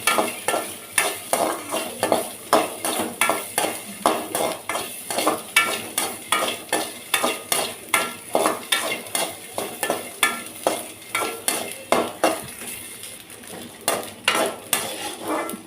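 Grated coconut fries in a little oil for Palipalayam chicken, a spoon scraping and stirring it around the pan in steady rhythmic strokes over a soft constant sizzle, close and fairly loud, with no talking.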